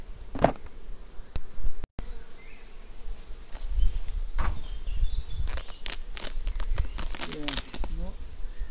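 Honeybees hum steadily around hive frames in an apiary. The close, constant buzz swells and fades as bees fly past, with people talking over it.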